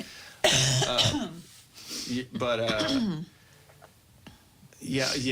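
Several rough coughs and throat-clearing sounds in quick bursts, close by, with brief quieter pauses between them.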